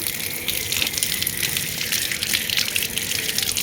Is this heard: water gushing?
yes